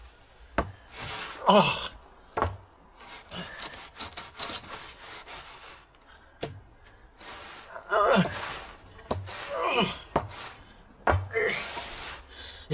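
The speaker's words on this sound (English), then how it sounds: "It's quite hard to scrape a layer of sand off." A layer of sand being scraped off a garden office base, giving rough, gritty scraping strokes in irregular bursts, fairly close, with a brief exclamation and some heavy breathing.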